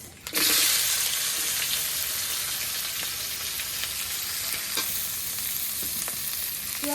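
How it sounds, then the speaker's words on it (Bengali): Onion and green chili sizzle steadily in hot oil, a bright crackling hiss with occasional scraping stirs, close and continuous, no talking. "পেঁয়াজ কাঁচামরিচ ভাজা হয়ে গেল।"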